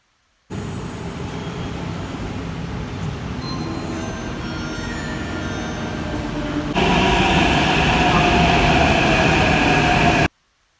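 Hyderabad metro train running continuously, a steady broad rumble with wheel and rail noise that swells louder in the last few seconds, heard from on board with no talk.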